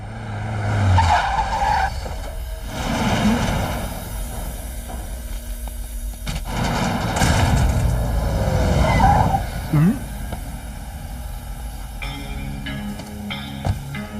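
A car drives and skids, its tires squealing and engine revving in loud, sweeping bursts over roughly fourteen seconds, with a sharp screech near the end.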